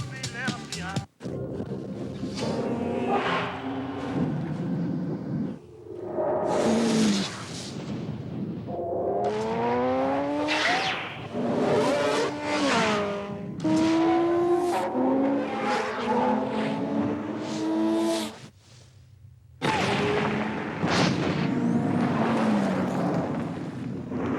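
A Volvo V70 T5 turbo family car in a TV advert revs and accelerates, its engine pitch climbing and falling through repeated sweeps, broken by brief pauses.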